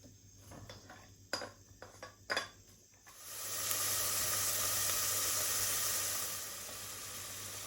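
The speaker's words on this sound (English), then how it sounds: "We cook for a few minutes the ingredients. We stuff the carrot, celery and onion for 3 or 4 minutes." Chopped carrot, celery and onion hit a hot pan after a few clinks of utensils and then sizzle loudly and steadily, the hiss easing slightly toward the end.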